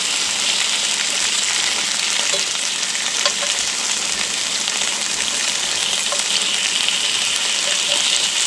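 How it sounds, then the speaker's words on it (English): Noodles sizzling in hot oil in a cast iron pan, a steady dense crackle and hiss close up, continuous throughout with no talking. "Kind of sizzling."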